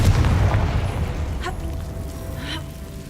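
A Confringo spell detonates in Hogwarts Legacy, a loud booming blast at the start that rumbles and fades over a few seconds, with a couple of faint whooshing effects trailing after.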